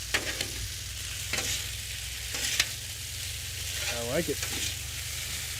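Chicken stir fry sizzling on a flat-top griddle, a steady close hiss with sharp spatula scrapes and clacks, while someone speaks briefly over it.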